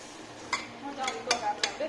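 Mutton and chopped tomatoes fry in a pan for a Nepali-style curry, with a spatula clinking and scraping the metal in short strokes over a faint sizzle.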